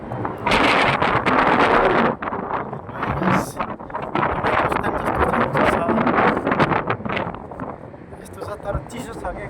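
Strong gusty wind on a hilltop ridge, loud broadband buffeting striking the microphone almost continuously, with someone talking over the roar.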